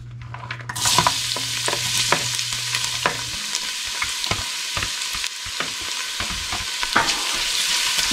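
Garlic sizzles steadily in a hot casserole pot, a loud constant hiss broken by the scrape and clack of stirring.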